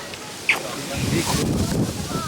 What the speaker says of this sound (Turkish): Abi ne rüzgar?